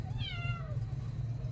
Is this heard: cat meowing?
yes